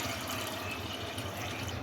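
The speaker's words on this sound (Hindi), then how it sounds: "इसमें थोड़ा सा पानी डाल दें" Water pours into a pot of soaked chana dal before boiling, a brief steady gushing splash that holds at moderate loudness, with no one talking.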